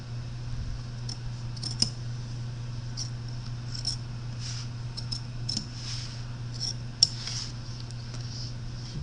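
Scissors snip through the fabric edge of a turtle embroidery piece in a few faint, scattered cuts over a steady low hum, with no talk.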